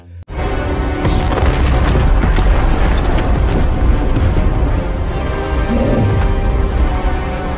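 A troll smashes through a military barricade under modern gunfire in a movie scene, heard as a dense, continuous roar of booming impacts, crashing debris and rapid mechanical clatter, loud and unbroken from start to finish.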